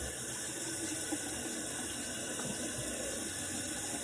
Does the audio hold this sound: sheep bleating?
no